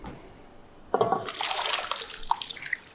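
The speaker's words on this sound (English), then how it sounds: "Wash the potatoes well to remove the starch." Sliced potatoes rinsed under a running tap for a Spanish tortilla, quiet at first, then water suddenly gushes and splashes steadily with small drips and clinks from the potato slices.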